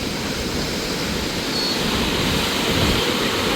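Rough sea waves crash onto coastal rocks at a fishing spot, making a continuous loud broadband roar with no distinct breaks and no voices.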